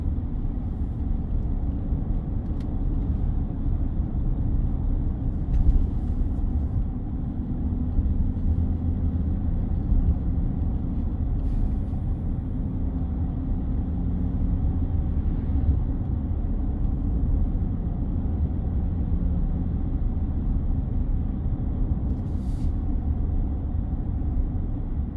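Steady low road rumble from a Volkswagen Touareg driving along a road, heard from inside the cabin as a continuous engine and tyre drone with no talk.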